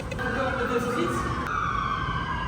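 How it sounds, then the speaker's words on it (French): A wailing emergency vehicle siren in Australia sweeps steadily in pitch, loud and continuous, with traffic rumble underneath. "Oui, avec les sirènes derrière."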